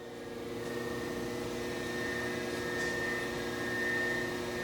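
Spindle of a Tru Tech Systems OD-8-20 8" x 20" CNC cylindrical grinder turning at about 2,000 RPM, a steady, smooth mechanical whine with a constant tonal hum, close and unchanging, no voices.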